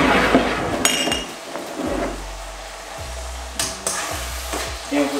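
A spoon stirs Kung Pao chicken sauce with peanuts in a pan, scraping and clinking against the metal in irregular strokes over a soft sizzle, close and clear.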